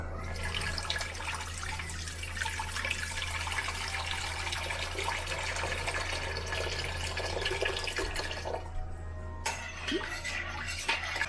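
Steady running water with a continuous splashing rush as two liters of warm water are poured and stirred into brine for salmon caviar, without any talking.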